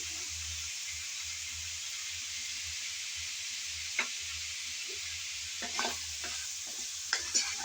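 Pumpkin is stirred and fried in a pan with salt, cumin, coriander, garam masala powder and turmeric: a steady close sizzling hiss runs throughout, with a few sharp spatula scrapes and taps near the end.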